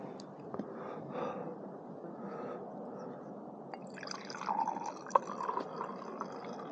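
Liquid being poured into a glass, a soft gurgling fill with a few drips and clinks, fairly close, no talking.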